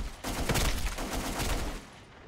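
Rapid bursts of AK-47 automatic fire in the Black Squad shooter game, loud and dense for about two seconds before the shots stop and the noise trails off.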